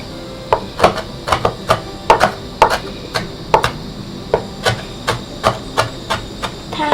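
Steady rhythmic knocks of chili peppers being lightly pounded and chopped, about two strikes per second, close and crisp over a faint background hiss.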